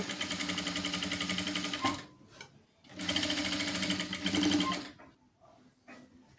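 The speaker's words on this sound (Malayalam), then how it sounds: "അതേ ഷേപ്പിൽ കാലിഞ്ചിൽ ഇങ്ങനെ അടിച്ചെടുക്കുക" A sewing machine runs in two sustained bursts of rapid stitching, sewing a baby dress in quarter-inch seams, with a short pause between runs and a quieter stop at the end.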